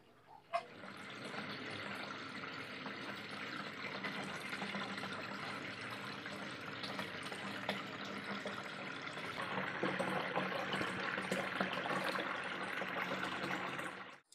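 Water pouring steadily into an aquarium during a full cleaning, a continuous fairly quiet rushing stream that swells slightly toward the end and then stops abruptly.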